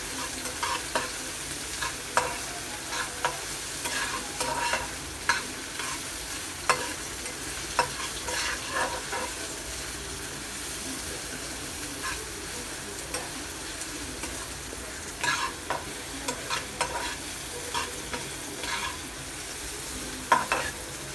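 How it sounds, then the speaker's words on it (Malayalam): Onions with salt frying in hot oil in a home kitchen pan, stirred steadily, with a continuous close sizzle broken by frequent scraping stirs of the spatula, sounding alone with no talk. "ഇനി നമുക്ക് കുറച്ച് ഉപ്പും കൂടി ഇട്ടിട്ട് നല്ലപോലെ മുരിച്ചെടുക്കണം"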